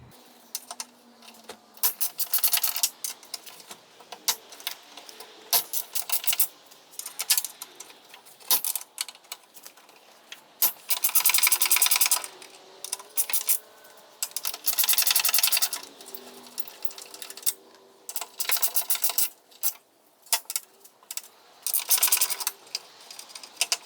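A ratchet works 12mm tailgate hinge bolts loose on a Land Cruiser, giving bursts of rapid clicking separated by pauses, with a few metallic clinks and rubbing sounds, close up and without talk.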